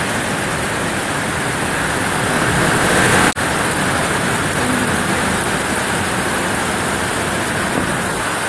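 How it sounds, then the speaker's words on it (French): Heavy rain pours steadily in a dense, unbroken hiss during a hailstorm in Bécancour, Québec, with one brief dip partway through and no voices. "Il mouille à tabarouette."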